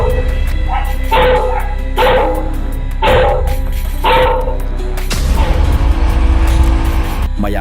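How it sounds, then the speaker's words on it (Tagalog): Several loud dog barks come in bursts at roughly one-second intervals over a steady engine rumble, followed by a burst of broad noise near the end. "nagsimulang mag-ingay ang mga aso sa lugar"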